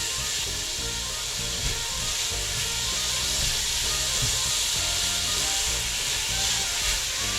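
Pork with scallions and garlic is stirred in a pot for Vietnamese braised pork, giving a continuous close scraping, rubbing and soft sizzling hiss with no talk.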